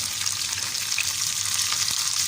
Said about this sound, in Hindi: ये देखिए मैंने बहुत सी मिर्चें डाल दी